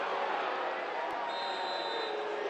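A stadium crowd at a Tampa Bay Rowdies v Sacramento Republic FC soccer match in 2023 reacts to an offside call, a steady, dense roar of many voices that holds throughout, with a thin high tone sustained briefly in the middle.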